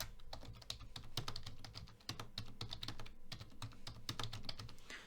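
Rapid typing of HTML code on a computer keyboard, a steady run of close, crisp key clicks with brief pauses over a low background hum.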